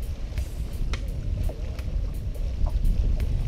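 Steady east wind blowing across the water by the shoreline at Shoreline Park in Gulf Breeze, Florida, a loud, continuous rumbling gust against the microphone with a few faint ticks, no voices.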